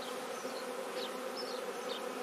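Honeybees buzzing at the entrance of a chalet-roofed refuge hive, a steady close hum of many wings with brief higher whines as individual bees pass near.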